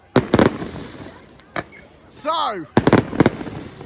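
Fireworks going off at the Swanage Carnival display: loud broadband bursts crack near the start and again near the end, with a whistling rising shell between them, while a voice talks briefly.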